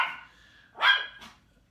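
A dog indoors gives a couple of short, agitated barks or yips, the second loudest, close by and with no one talking.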